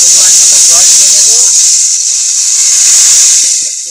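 Water poured into a pan of frying crab sets off a loud, steady steam hiss and sizzle that holds strong for about four seconds before easing off at the end.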